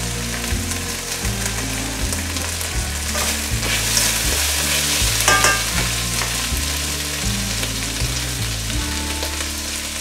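Chicken pieces for pancit canton fry in a pan with a loud, continuous hissing sizzle, a utensil stirring through them with occasional scrapes and clinks, close up and steady throughout.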